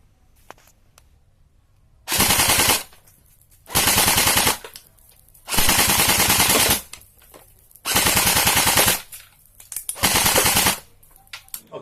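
A WGG AK47 Renxiang airsoft rifle converted to an AEG fires five loud full-auto bursts, each lasting about one second, buzzing and rapid, with short quiet gaps between them and no talking.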